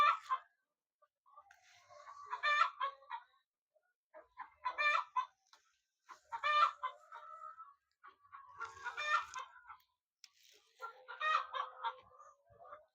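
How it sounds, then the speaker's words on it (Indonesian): Chickens cluck noisily near a vegetable garden, several birds in repeated bursts of clucking and squawks with short pauses between, fairly close and loud, no talk over them. "ayamnya Masya Allah ribut banget tuh ya teman-teman ya."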